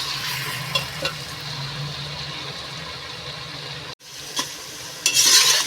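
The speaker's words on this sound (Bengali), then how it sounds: "পেঁয়াজটা একটু লাল লাল মতো হওয়া অবধি ভাজবো, গোল্ডেন ব্রাউন হওয়া পর্যন্ত এটাকে একটু ভেজে নেব।" Onions and garlic fry in a pan for Bengali akhni chicken pulao, a steady close sizzle with occasional stirring scrapes, briefly cutting off and then rising louder near the end.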